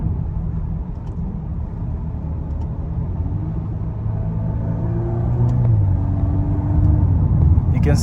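A VW Golf 8R with an Akrapovic exhaust rumbles steadily from inside the cabin in busy traffic, its engine note shifting as it downshifts, with talk over the drone.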